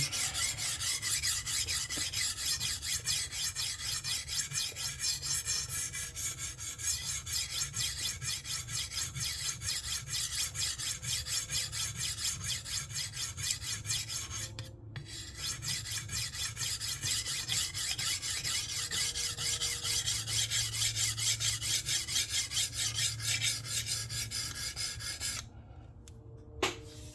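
Continuous gritty rasping of a knife blade stroked back and forth across a sharpening stone on a TSPROF Kadet Pro sharpening system, close and steady, with two brief pauses and no talking.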